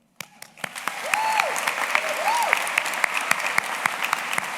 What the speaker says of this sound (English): I also want to do one more round of applause for Adam and Chrissy.